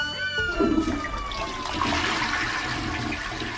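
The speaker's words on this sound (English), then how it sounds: "Flushing it all away." A toilet flush sound effect used within a song: a loud, rushing swirl of water that drains steadily over several seconds, with faint musical tones underneath.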